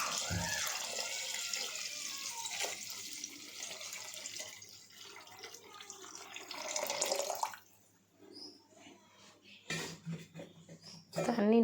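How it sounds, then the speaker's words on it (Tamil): Hot water poured from a vessel into a cooking pot while making homemade chicken biryani, a steady splashing pour through most of the clip that stops, then a few clinks and brief splashes near the end. "இப்போ தேவையான அளவு தண்ணி ஊற்றிக்கலாம்."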